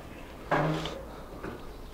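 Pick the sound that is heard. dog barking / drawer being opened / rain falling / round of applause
drawer being opened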